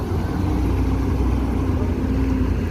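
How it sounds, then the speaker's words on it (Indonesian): An old Al Hijrah bus engine runs steadily at idle, a low continuous rumble close by with no talking. "ini bus tua ini"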